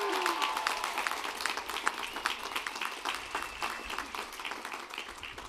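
An audience at a graduate and professional commencement ceremony applauds the graduates, a broad wash of many hands clapping that starts strong and gradually tapers off.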